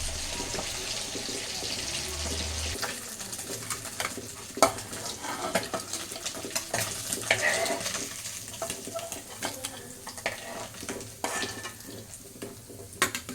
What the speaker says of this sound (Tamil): மீன் பொரிச்சாச்சு